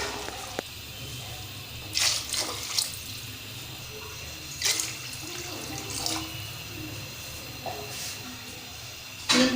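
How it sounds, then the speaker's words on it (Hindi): Water pours into a cooking pot of potato rice pulao with a soft running hiss, punctuated by several louder splashing bursts as glassfuls go in one after another. "अब हम इसके अंदर ऐड करेंगे पानी"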